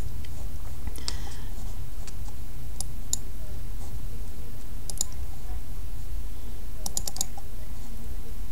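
Sparse clicks and taps on a computer keyboard and mouse during a circle-design task, faint and scattered over a steady low hum, with no speech.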